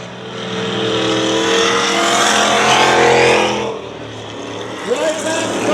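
Dirt track race cars roar past at Dirtona Raceway, a loud engine howl that builds, peaks and fades as the pack goes by, with a commentator talking over it.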